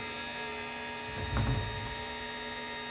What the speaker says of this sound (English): So we can hear the printer running.